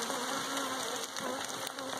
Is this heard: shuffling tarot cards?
no